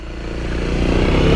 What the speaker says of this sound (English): with a bike like this, you can actually, you know, rev it up, go through some gears